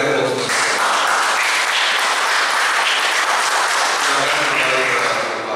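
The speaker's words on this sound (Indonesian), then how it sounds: "Kita beri aplaus." An audience at a church gathering applauding, a dense, steady wash of clapping from many people, close and loud throughout.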